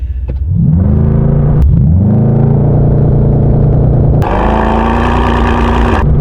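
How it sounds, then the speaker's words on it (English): A 2019 Mercedes-AMG GT 63 S 4-Door in Sport Plus mode uses launch control, loud and close: the engine holds a raised idle, then surges into a hard, rising roar with a sharp shift partway through. "Tell you what we need to do is try the launch control"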